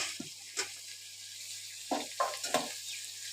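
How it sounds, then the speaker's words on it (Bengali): Kabuli chickpeas sautéed with chicken mince in a pan, giving a soft, constant sizzle broken by a few distinct spoon scrapes and stirring clatters near the end, close but fairly quiet. "কাবলি ছোলাগুলো দিয়ে ভালো করে আমি কষাবো"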